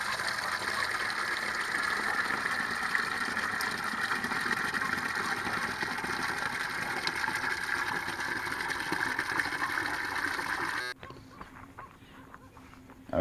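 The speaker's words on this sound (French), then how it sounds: "Donc on va remplir notre arrosoir." Water gushing steadily into a watering can outdoors for a bushcraft garden setup, a continuous close splashing rush that cuts off abruptly near the end, leaving quieter surroundings.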